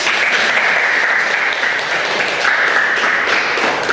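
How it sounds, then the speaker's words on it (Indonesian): A school class gives a student a round of applause: dense, steady clapping from many hands, close and loud, lasting about four seconds without a break. "Ayo beri tepuk tangan untuk Felix."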